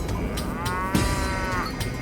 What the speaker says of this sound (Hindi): कुछ दूरी पर उसे भैंस की आवाज आने लगी।